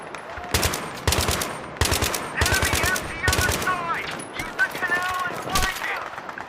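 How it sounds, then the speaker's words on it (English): Rapid bursts of automatic gunfire from the video game Battlefield 3, loud and close, in several sustained volleys with brief gaps, followed by scattered shots and clattering effects. "They also just sound extremely good and sound like real guns as well."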